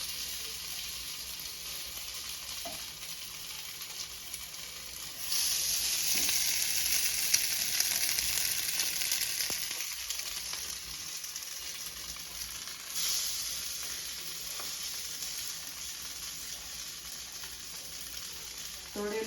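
Sabudana vada fry gently in oil in a pan over a low flame, giving a steady soft sizzle that swells louder for a few seconds and then eases, with faint stirring clinks.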